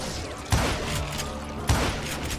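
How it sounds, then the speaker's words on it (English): Gunfire in a western cowboy video game, two sharp gunshots about a second apart, each with a short ringing tail, over a busy backdrop of game sound. "bullets are flying every which way"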